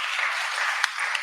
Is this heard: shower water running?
no